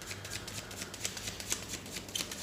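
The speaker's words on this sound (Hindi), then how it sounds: "चलिए मैं कार्ड्स आप लोगों के लिए शफल कर रहा हूँ।" Tarot cards being shuffled by hand, a soft continuous papery riffling with small flicks and taps, close and quiet, with no talking.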